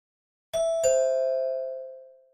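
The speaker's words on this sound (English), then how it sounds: "hears the doorbell" A two-tone doorbell chime rings once, the second note ringing out and slowly fading, clear and close in a quiet room.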